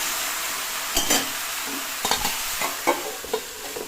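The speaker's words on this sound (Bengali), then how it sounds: "রান্নার সময় মানে আমি এইভাবে নাড়াচাড়া করব আর ঢাকবো।" Bottle gourd curry cooking in a pan gives a constant loud sizzle, broken by several scraping stirs with a utensil that come in short, irregular bursts.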